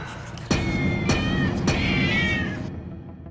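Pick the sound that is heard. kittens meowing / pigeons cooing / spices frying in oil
kittens meowing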